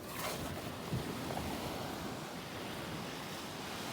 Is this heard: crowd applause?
no